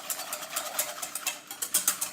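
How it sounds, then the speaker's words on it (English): A whisk beats melted chocolate mixed with cayenne pepper for a cacao ceremony drink, giving fast rhythmic scraping and clicking strokes against the bowl, close and fairly quiet, with no talking. "Now what I'm gonna do is take my whisk and whisk it up"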